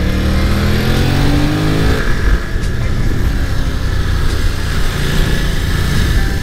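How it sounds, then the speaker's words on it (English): A Yamaha R7 sport bike screams around technical corners on a track day, its engine loud and continuous with rising and falling revs under heavy wind rush. "it's also gonna be super easy to go around technical corners like this with the R7"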